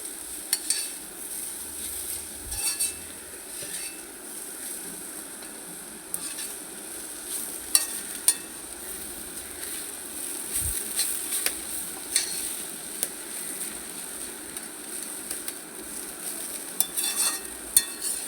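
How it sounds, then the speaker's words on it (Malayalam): Coconut paste being stirred into a beetroot and sprouted greengram thoran in a pan, with soft scraping and occasional clicks of a spoon against the pan over a quiet, steady sizzle, no one talking. "ഇനി നന്നായിട്ട് മിക്സ് ചെയ്യാം."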